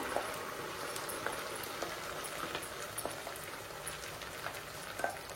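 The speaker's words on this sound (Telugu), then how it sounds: "ఇట్లా ఆనియన్ ఇట్లా ఫ్రై అవనివ్వాలండి" Onions fry in a pan for paneer curry, a quiet, even sizzle with scattered small pops and crackles, close and alone.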